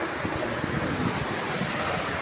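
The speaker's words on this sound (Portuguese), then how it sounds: "Esse é o Rio das Pedras, pessoal. Olha. Cachoeira do Saltão." Cachoeira do Saltão, a waterfall on Rio das Pedras, pours with a constant, dense rushing roar, close and unbroken throughout.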